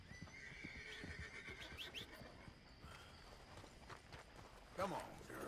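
A horse whinnies near the start in Red Dead Redemption 2, with hooves clopping in an uneven rhythm and a voice speaking over part of it; a sharper burst comes near the end.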